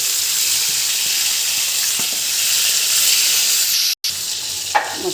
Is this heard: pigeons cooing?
no